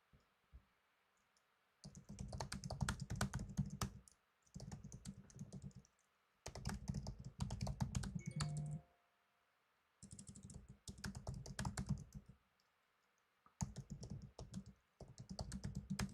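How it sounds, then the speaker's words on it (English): Bursts of computer keyboard typing come in several spells, each lasting a second or two and separated by brief pauses, with dense, rapid clicking keystrokes that sound close and fairly loud, and no talking. "What I'm typing up."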